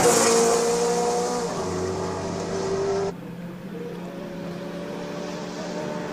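A VW race car climbs a hill during a Simola hillclimb lap, its engine holding a loud sustained drone that drops abruptly in level partway through as it pulls away, with no talking.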